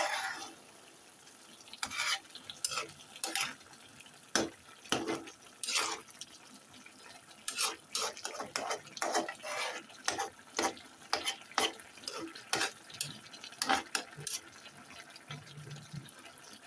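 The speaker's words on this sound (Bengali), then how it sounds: "এখনো আলু ভাজি হইতেছে।" Potatoes frying in a pan during home cooking, with repeated scraping stirs of a spatula in uneven bursts over a soft background sizzle, close and moderately loud, no talking.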